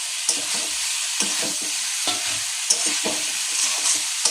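Paneer being stirred into fried potato and cauliflower in a pan, with repeated scraping and clattering strokes of the spoon over a continuous hissing sizzle, close and fairly loud, no voices.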